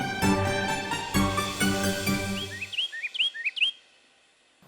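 A magpie-robin at a bird-singing contest gives a quick series of bright, whistled chirps and upward-sweeping notes, close and clear, following a stretch of loud harmonic musical tones.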